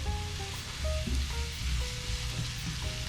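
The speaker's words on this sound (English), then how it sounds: "we're just gonna sweat this onion out a little bit" Onion sweating in a pan for Aussie meat pies, a steady close sizzle and crackle of frying with faint scattered pops and tonal squeaks, continuous and alone.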